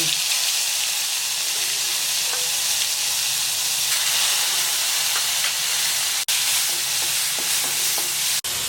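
Chopped vegetables with cumin and ground spice paste sizzle loudly and continuously in a hot pan on a home stove, with occasional scraping stirs close by.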